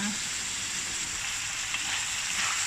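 Vegetables fry lightly in olive oil, giving a steady, even sizzle close up throughout, with no speech over it.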